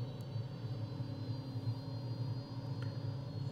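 A Fouga jet engine holds a steady, droning roar at full throttle while the aircraft sits on its brakes before takeoff, heard from inside, continuous and even with a low rumbling hum.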